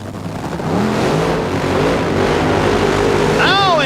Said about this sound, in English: Oh, and side-by-side burnouts.